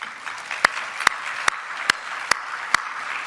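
Audience applause at a morning general session, a steady wash of many hands clapping with a few sharp, louder claps standing out at regular intervals, heard alone without talk.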